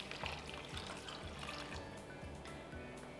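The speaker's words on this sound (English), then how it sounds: "And then we're going to add about 2 cups of veggie broth." Vegetable broth poured into a cooking pot, a soft continuous liquid splashing and gurgling with faint repeated low thumps, quiet and close.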